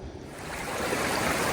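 Creek water rushes past a beaver dam in the woods, a continuous broadband wash of flowing water that swells slightly, heard fairly softly with no voices.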